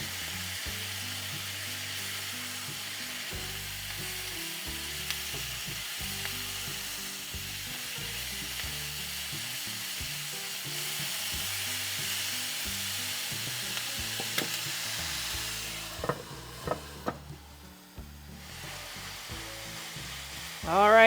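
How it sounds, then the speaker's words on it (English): Seasoned chicken breast sautés in a pan, a continuous close sizzle and hiss over low background hum, with a few clicks and utensil scrapes near the end. "now we're gonna saute this"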